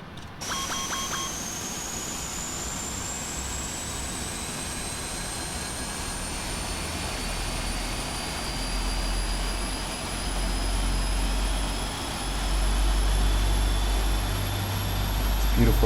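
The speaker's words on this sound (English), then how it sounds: "Beautiful sound as always as the GEs are firing up." Twin GE jet engines spooling up on a PMDG 747-8F in Prepar3D, a steady loud turbine roar with a rising high-pitched whine throughout, plus a few short cockpit beeps near the start.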